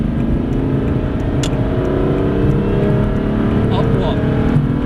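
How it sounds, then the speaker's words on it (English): An Aston Martin DB9 accelerates hard on a track, its engine a steady loud drone with a gradually rising tone throughout, while an instructor's voice speaks over it. "accelerate hard now."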